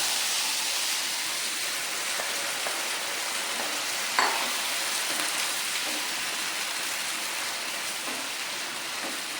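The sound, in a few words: pork frying and being stirred with garam masala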